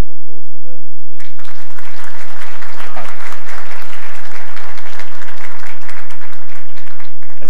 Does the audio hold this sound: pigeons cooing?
no